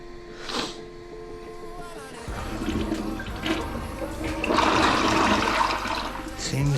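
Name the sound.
toilet flushing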